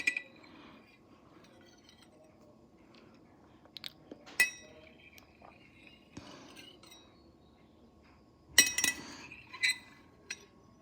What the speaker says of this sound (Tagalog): Then add some ice.